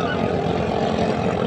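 A 14 hp ketinting longtail boat engine races at full throttle, giving a steady buzzing, rattling drone close by and a little muffled.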